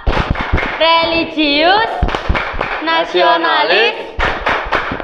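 A school class claps sharp rhythmic beats as part of the Tepuk PPK chant in an Indonesian classroom, loud close hand claps punctuating voices that chant the words together throughout.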